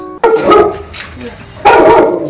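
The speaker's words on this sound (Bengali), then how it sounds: "ডগি ডগি এ নাও ধরো" A dog nearby gives two loud barks, each followed by a softer yelp or whine in between, all close and short.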